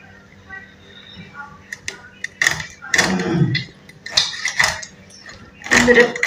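A knife cuts through a raw rohu fish in irregular bursts of close, sharp scraping and crunching against a board or plate, with clatters and quiet gaps between strokes.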